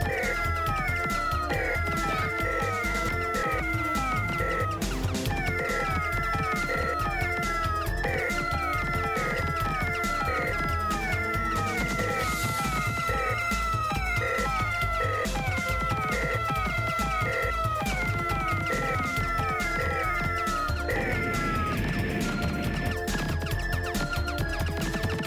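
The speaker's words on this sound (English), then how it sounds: "Yeah, that meowing isn't annoying at all!" Cats meow over and over in the Sega CD game Keio Flying Squadron, a steady string of electronic meows over busy, dense game music that plays the whole time.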